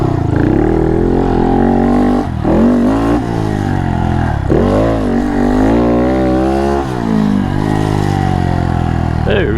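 A Honda Monkey motorcycle rides and jumps on a dirt track, its small engine revving up and down in loud, wavering surges and blips close by, with a voice talking over it.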